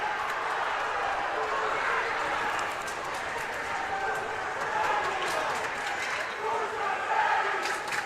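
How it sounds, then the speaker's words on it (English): Smithfield hockey crowd at a boys' Rhode Island Division I game chanting in a steady dense roar of many voices, with scattered shouts and claps rising and falling throughout. "They're chanting, "Who's your daddy?""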